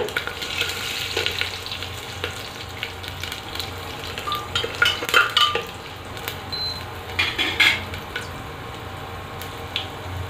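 Spices tempering in hot oil for a kala chana (black chickpea) curry give a steady, close sizzle throughout, with brighter crackling bursts and a few clinks of utensils toward the middle and end.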